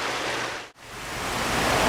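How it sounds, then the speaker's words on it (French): A garden waterfall without a pond keeps water cascading in a steady, close, broadband rush that dips briefly once before swelling back, with no voices. "vous désirez entendre le son mélodieux d'une cascade"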